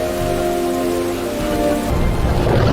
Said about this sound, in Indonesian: Tepat di tengah hujan deras yang sedang terjadi